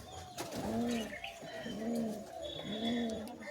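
Flying homer pigeons at a home loft coo in repeated low, wavering phrases, three or four calls close by with a faint chirp in the background.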